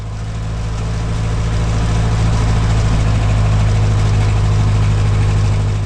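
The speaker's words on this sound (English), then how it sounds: "Let's watch here as I get ready for takeoff in this beautiful 1947 Aeronca Chief." A 1947 Aeronca Chief light aircraft engine runs up before takeoff, a loud steady close droning hum that swells slightly and holds without talk.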